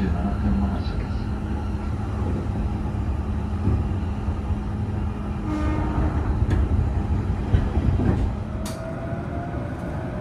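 A JR East E531 series train on the Joban Line rumbles through a Japanese station with steady low noise and metallic rail clatter, sounding close and fairly loud, with faint voices in the background.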